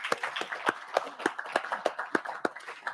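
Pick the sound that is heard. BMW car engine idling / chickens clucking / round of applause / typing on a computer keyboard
round of applause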